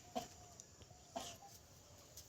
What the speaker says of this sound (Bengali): এই যে দেশি মুরগিগুলো আমার খামারের